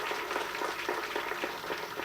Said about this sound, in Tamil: எல்லாரும் ஒரு பெரிய கைத்தட்டு தட்டுங்க நம்ம தயாரிப்பாளருக்கு